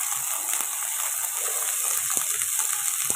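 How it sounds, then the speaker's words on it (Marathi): Peas and corn are sautéed in a pan for masala rice made from leftover rice, giving a steady bright sizzle with faint scattered ticks of stirring close by. "मका पण टाकून घेते आता व्यवस्थित छान परतून घेऊया"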